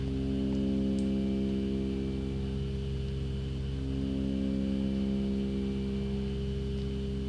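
A hissing wash of white noise sits over a low, steady humming drone in an experimental music track, constant and unchanging for the whole stretch with no voices.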